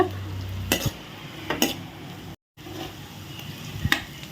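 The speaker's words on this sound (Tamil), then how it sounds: "வெங்காயம் எல்லாமே நல்லா பொன்னிறமாக வர்ற வரைக்கும் நல்லா வதக்கி விடுங்க" Soft sizzle of onions sautéing until golden in a pan for chicken sukka, with three sharp scraping stirs of a spoon against the pan spaced about a second apart.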